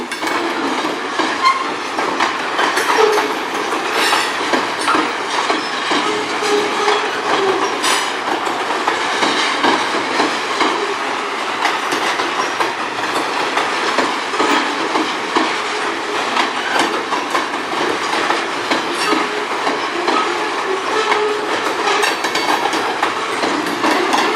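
An industrial freight train on the Strathroy Subdivision rolls past close and loud, a steady continuous rumble of railcars with rhythmic clickety-clack of wheels over rail joints and occasional wheel squeal, sustained throughout with no talking.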